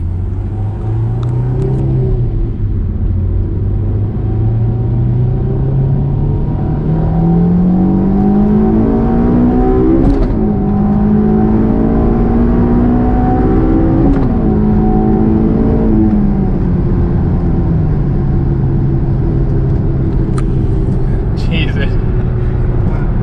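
A Honda S2000 AP2 engine pulls hard through the revs as VTEC engages, its pitch climbing, dropping at gear changes and climbing again, loud and close inside the car with a voice talking over it.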